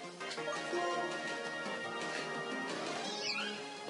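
The cry of Purrloin, a cat Pokémon in Pokémon Black, is a synthesized meowing call with a bright, wavering tone and a short rising chirp near the end, fairly faint.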